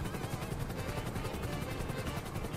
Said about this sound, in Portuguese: Será que eu vou conseguir passar alguém de helicóptero agora?